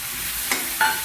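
A small chopped tomato sautés in a pan, heard as a faint sizzle broken by two brief, sharp scrapes of a stirring utensil close by.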